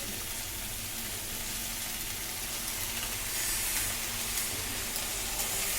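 Fish heads fry in hot oil, giving a loud, continuous close-up hiss and crackle that holds steady throughout.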